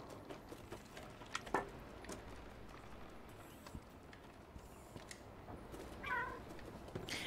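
Cat meows come from the video game Stray, a faint, brief call near the end over a soft, busy background of light footsteps and ambient noise.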